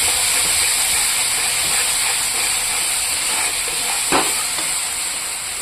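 Spice masala frying in a pan for a rohu fish curry, giving a steady, close, dense sizzle and hiss throughout, with a brief stir or scrape near the end and no voices.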